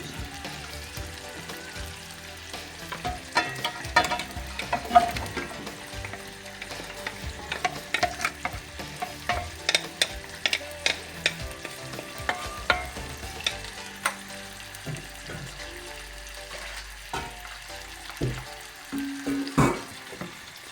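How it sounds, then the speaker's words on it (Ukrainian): Vegetables sizzle in hot olive oil in a pot while a utensil repeatedly scrapes and stirs, close and continuous. "Буду висипати смажувати овочі."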